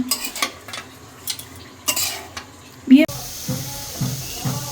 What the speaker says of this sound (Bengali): শাকটা কড়াইতে দিয়ে নিয়েছি লবণ দিয়ে নিছি এখন ভালো করে নেড়ে মিশিয়ে নিব লবণটা